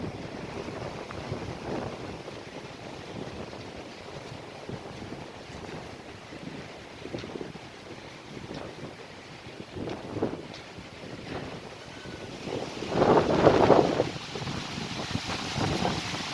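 A strong, cold wind blows steadily outdoors, a rushing roar with gusting swells and microphone buffeting. It grows louder and harsher near the end, with no voices.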